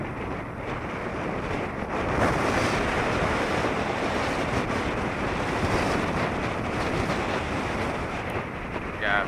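Sea waves and a strong northeast wind at a beach, heard as a loud, continuous roar of surf with heavy wind buffeting across the whole stretch and no clear voices.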